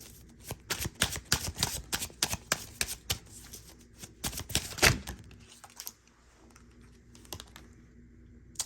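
Tarot cards being shuffled close up in quick riffling bursts and slaps, busy for about five seconds, then trailing off into a few sparse, quieter shuffles.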